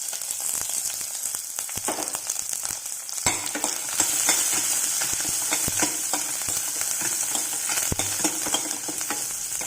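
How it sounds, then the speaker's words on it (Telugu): Green chilies, curry leaves and onions fry in a hot pan for an onion-tomato rasam, giving a steady, close, continuous sizzle with scattered clicks and scrapes of stirring throughout, no voices. "తర్వాత ఇందులో పచ్చిమిర్చి, కరివేపాకు, ఆనియన్స్ అన్నీ వేసేద్దాం."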